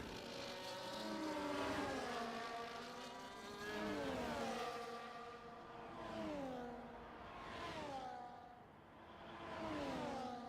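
A Haas Formula 1 car in the racing game F1 24 at the Netherlands round screams through repeated upshifts, its whining engine climbing in pitch again and again as it accelerates, steady and close.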